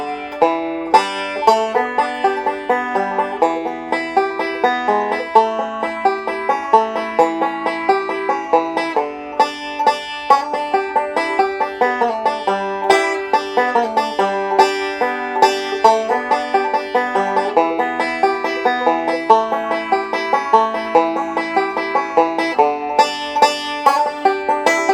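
Bluegrass banjo played solo, picking steady rolls through the Salty Dog Blues chord changes, bright and close for the whole stretch with no voice.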